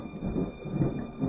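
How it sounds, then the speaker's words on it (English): Loud, rumbling thunder rolls continuously through a rainstorm, with deep swells building and fading in waves over steady rainfall. "Ooh, pretty intense thunder."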